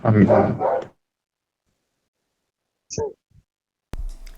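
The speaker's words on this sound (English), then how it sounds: "his dog is barking in the background again" A dog barks in the background of a voice call, one short sharp bark following a stretch of speech, then a clatter and more muffled talk after a silence.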